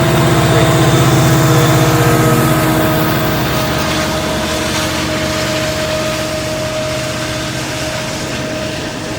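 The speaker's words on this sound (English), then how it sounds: "there were 2 westbounds coming, one of them being the detouring VIA 79, coming through in beautiful golden" A VIA passenger train, number 79, rolls past on the CN Halton Subdivision, a loud steady rumble with a sustained tonal engine drone that slowly eases off as it moves by.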